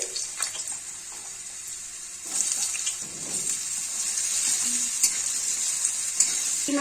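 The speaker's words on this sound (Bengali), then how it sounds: "কড়াইয়ে তেল দিয়ে দিচ্ছি এখন আমি আলুগুলো ছেড়ে দিচ্ছি" Potatoes dropped into hot oil in a wok for a Bengali Moglai paratha sizzle and crackle at moderate level, with a brighter burst of frying midway that stays steady to the end, alone without talk.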